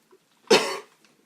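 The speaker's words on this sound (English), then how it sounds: "Sorry for coughing." A single short, rough cough, close and fairly loud, with a faint throat sound just before it and quiet afterward.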